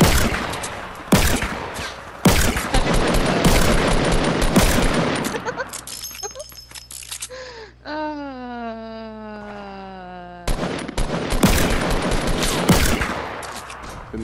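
Rapid gunfire in a video game, with sniper shots among dense volleys of sharp cracks in two loud stretches, separated by a wailing, sliding tone.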